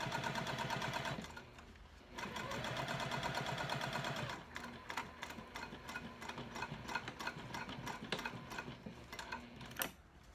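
A sewing machine stitches a tapered seam on a wristlet clutch. Close and fairly quiet, it runs a steady whirring stretch, pauses briefly, whirs again, then breaks into short rhythmic bursts of stitching.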